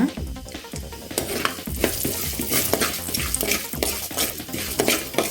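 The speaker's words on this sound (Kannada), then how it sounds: "ಒಗ್ಗರಣೆ ಚೆನ್ನಾಗಿ ಬೇಯಬೇಕು" Mustard seeds and urad dal sizzle and crackle in hot oil as a tempering for Mangalore-style bitter gourd gojju, with repeated sharp spatters and a spoon scraping and stirring the pan, close and busy.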